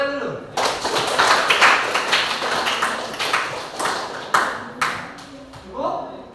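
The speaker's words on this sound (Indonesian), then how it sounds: "Tepuk tangan dulu." Students clapping together in a classroom, a sharp onset of scattered hand claps that swells and ebbs in bursts, with voices mixed in near the end.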